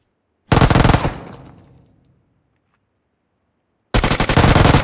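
An Uzi submachine gun in PUBG Mobile lets off a loud, rapid close burst lasting about a second with a fading tail, then silence before a second burst starts near the end.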